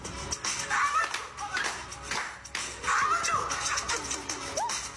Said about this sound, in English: I like the clap.